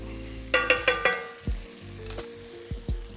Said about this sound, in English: I'm just giving this a little stir.